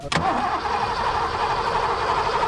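The engine of a Foxbody Mustang that sat unused for 20 years cranks briefly and catches, then settles into a steady idle close by.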